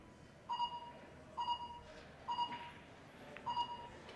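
Short electronic beeps sound in the background at a professional billiards match at the Predator Canada Open, four evenly spaced double tones, faint under the quiet hall ambience.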